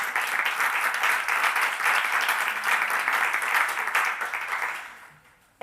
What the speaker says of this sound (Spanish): Un aplauso, sí, para María.